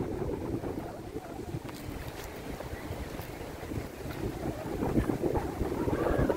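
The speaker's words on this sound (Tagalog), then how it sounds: "Napakalakas ng hangin." Strong wind buffets the microphone in a steady low roar beside the wide St. Lawrence River, with gusts rising toward the end and the faint wash of water underneath.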